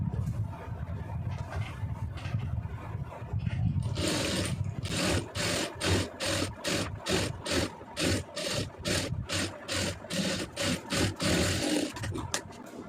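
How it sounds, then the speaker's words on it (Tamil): A sewing machine stitches a blouse neckline up close in a long rhythmic sequence of repeated whirring bursts. The run stops and restarts at regular short intervals. "இப்போ இதில் நம்ம ஒட்டில் வந்து ஒரு தையல் போட்டுடலாம்"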